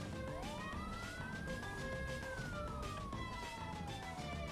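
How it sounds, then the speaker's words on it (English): A police siren fitted to an SMZ microcar in a video game gives one clean rising and falling wail over steady background game noise, with no voices. "I tried attaching a siren to the top of the car and turning it on"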